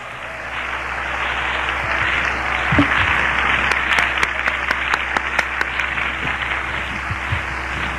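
A church congregation applauds at length, a broad sustained roar of clapping that holds steady throughout, with a few sharper individual claps and faint shouts poking through.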